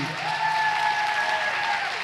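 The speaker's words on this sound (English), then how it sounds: "Please give a round of applause to" An audience at the Ake Festival literary event breaks into a loud, sustained round of applause up close, dense and even throughout, with a faint sustained tone running underneath.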